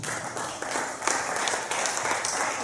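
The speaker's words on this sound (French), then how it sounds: "Est-ce qu'on peut acclamer pour Dieu?" A church congregation at a Pentecost retreat applauding, dense steady clapping from many hands filling the room, with faint voices mixed in.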